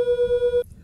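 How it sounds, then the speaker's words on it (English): Two pure tones at 480 Hz and 489 Hz sound together, making a steady hum that swells and fades about nine times a second. It stops abruptly after roughly half a second. "Perhaps you can hear the sound of the beat, which comes across as an increase and decrease in the sound of the tone."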